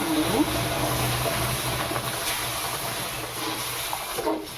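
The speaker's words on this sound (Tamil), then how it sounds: "நல்லா கொதிக்கிற தண்ணி ஊற்றுறேன்" Boiling water poured into ragi rava for upma makes a soft, continuous splashing pour that stays quiet and even throughout.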